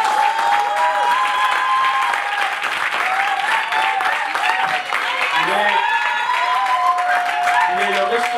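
A forum audience at a jobs event gives a sustained standing ovation, loud and steady clapping throughout with cheers and voices rising over it, and a tonal whistle or call weaving through.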